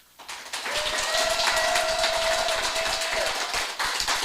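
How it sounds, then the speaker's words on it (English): An audience claps in a brief round of applause at a live event, rising quickly after a quiet start and holding steady and fairly loud for several seconds, with a faint sustained tone underneath. "So if we could give them a round of applause, please."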